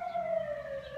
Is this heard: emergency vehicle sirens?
yes